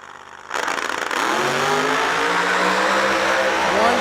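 Drag racing car fitted with quad zoomie headers at a drag strip, its engine bursting in after a brief low rumble and then holding a loud, steady roar with rising harmonic sweeps as it revs.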